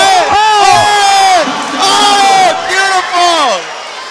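Crowd at a Muay Thai fight cheering and shouting loudly in repeated swelling bursts, with whoops and yells layered over the roar and voices calling out close by.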